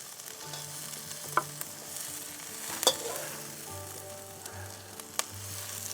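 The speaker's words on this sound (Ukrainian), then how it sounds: "І так смажимо, доки капустка стане м'якенькою." Steady sizzling of kale frying in a pan, with a few sharp clinks and scrapes of a utensil stirring over the constant crackle.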